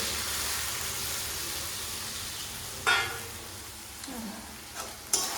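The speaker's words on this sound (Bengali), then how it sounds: "আর এই পাশটায় আমি আলু ভাজা করছি। ভেজে একটু জল দিয়ে সিদ্ধ করে নেবো আলুটাকে। এখন জল ঢেলে দেবো অল্প করে।" Potatoes sizzle steadily in a hot pan, then small pours of water set off sudden loud hissing bursts that fade back into a softer simmer. The sound is close up, with no talking.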